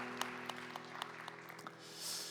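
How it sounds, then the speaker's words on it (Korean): Congregation in a church service giving a short round of applause, faint and somewhat distant, with scattered claps over a quiet background. "우리 박수로 서로의 신앙과 삶을 응원하며 축복합니다."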